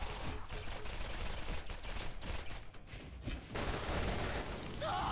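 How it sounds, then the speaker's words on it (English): Rapid, continuous gunfire from Roland in the shooter Borderlands, a dense, unbroken stream of shots blurring into a harsh roar, followed by a louder burst near the end. "I fire so fast, the sound just breaks."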